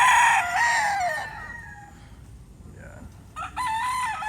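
Roosters crow close by, one long call at the start and another beginning near the end, with quieter clucking and farmyard murmur between.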